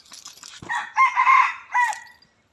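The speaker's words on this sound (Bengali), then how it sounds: "কত সুন্দর সাদা মোরগ দেখছো এটা" A white rooster crows once nearby in a village yard, a clear, strained drawn-out call rising and breaking, ending in silence.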